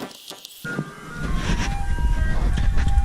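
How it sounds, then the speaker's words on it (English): An ice cream truck's jingle plays in springtime, a faint melodic tune heard from a distance over rising low rumble and background noise, with no voices. "Can you guys hear the ice cream truck?"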